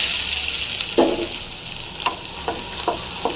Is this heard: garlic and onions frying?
yes